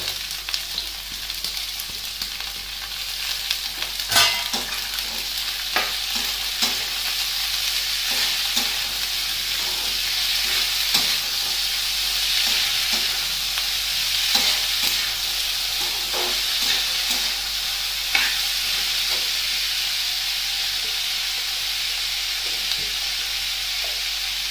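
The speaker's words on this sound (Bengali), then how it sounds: "তা আমি এবার আলু আর ক্যাপসিকাম যা যা কেটে রেখেছিলাম ওগুলো দিয়ে দিলাম" Cut potatoes and capsicum frying in a pan with onion and peanuts for fried rice: a continuous bright sizzle and hiss, with scattered spatula scrapes and knocks against the pan, close and steady, no speech.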